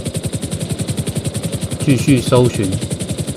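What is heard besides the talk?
helicopter flying in GTA Online video game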